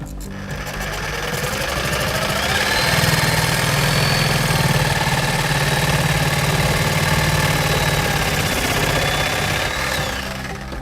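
Reciprocating saw cutting through spa plumbing pipe, a steady loud buzzing drone held for about ten seconds with a constant motor-like rattle and no talk.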